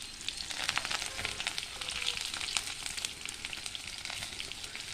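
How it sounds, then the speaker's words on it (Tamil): Onions with curry leaves and mustard seeds sizzle in hot oil for a beetroot stir-fry, a steady crackling hiss with dense spitting pops, close and moderately quiet, with no voices. "கடுகு போட்டோன்னா இப்போ வெங்காயம் போடுறேன்"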